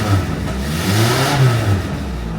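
A 1983–1987 Toyota Tercel 4WD carburetted engine catches and runs, its steady mid-pitched drone rising and dipping slightly as it revs, loud and close with no talk.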